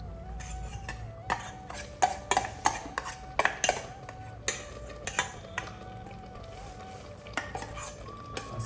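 A ground paste is spooned into a pot of kootu curry, an Onam dish, making repeated metal clinks and scrapes of a spoon against the pot over a faint simmer, fairly close and without talk.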